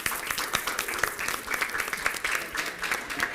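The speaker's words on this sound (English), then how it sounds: "Let's take a picture. All right, round of applause." An audience gives a round of applause at a celebration event, a steady, dense wash of many hands clapping that carries on throughout.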